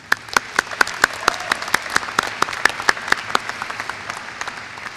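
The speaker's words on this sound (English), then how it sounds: "could we give a round of applause to our family and friends" Audience at a College of Medicine and Life Sciences commencement ceremony clapping: a steady run of sharp, close claps in a brisk rhythm that thins out toward the end.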